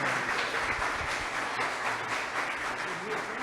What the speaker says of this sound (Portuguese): Mais uma vez, uma salva de palmas para o Pai Márcio.